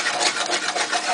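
Close scraping and rubbing as a whisk breaks up a homemade gravy mixture in a pan for Salisbury steak, a continuous gritty rasp with slight rhythmic pulses.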